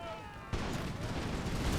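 Crackling volleys of musket gunfire break out suddenly during a siege battle in Empire Total War, a dense, sustained rattle of shots that continues to the end after a brief quieter lead-in.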